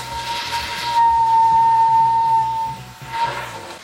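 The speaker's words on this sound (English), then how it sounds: "there's a little hole down there making it whistle" A torch whistles through a little hole with a thin, steady whistle lasting a couple of seconds over a low roaring hiss, during work on long-travel Tacoma CV axles.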